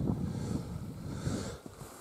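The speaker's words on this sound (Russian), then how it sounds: "Ветер утихает, но не такой порывистый сейчас" Gusty wind blowing across open ice during winter fishing, a steady rushing roar with buffeting against the microphone and a slight lull near the end.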